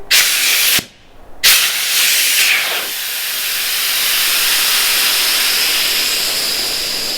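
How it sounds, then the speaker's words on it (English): Air hisses loudly out of the valve of a Red inflatable paddle board as it deflates, a strong steady rush broken by a short pause near the start, then continuing evenly. "So I'll show you deflating it."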